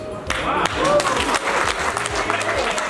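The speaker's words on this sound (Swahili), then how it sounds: "Makofi zaidi" A conference audience in Kakamega breaks into applause, steady clapping throughout with a voice speaking over it.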